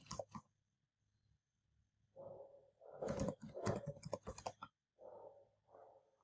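Faint computer keyboard typing in short bursts of clicks, separated by brief pauses, as a name is entered while setting up an EC2 virtual machine instance.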